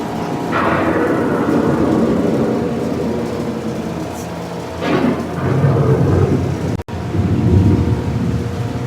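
Thunderstorm effect on EPCOT's Living with the Land boat ride, a loud rolling rumble that swells and surges in waves with a brief dropout, echoing through the indoor ride space.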